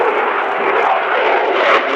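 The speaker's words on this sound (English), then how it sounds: "You can see the Typhoon in the middle of the display line." Italian Air Force Eurofighter Typhoon jet flying a display at an air show, a loud steady roar of jet engine noise, broad and continuous without talk.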